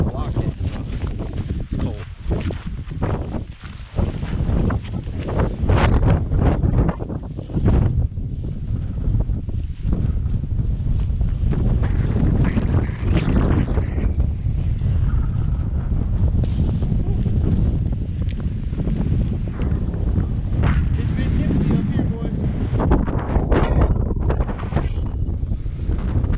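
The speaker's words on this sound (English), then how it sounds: "When you get up here in these areas like this, the wind starts blowing." Cold wind gusts steadily across a high, exposed trail on the Hatfield-McCoy Trails in West Virginia, roaring into the microphone as a constant broadband rush while someone talks over it.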